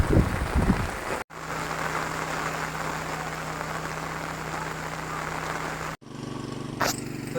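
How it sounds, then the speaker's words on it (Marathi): Steady rain falls outdoors on a Konkan farm, a dense even hiss that runs close and continuous, broken by two brief cuts with a low hum underneath. "आणि पाऊस आलेला आहे"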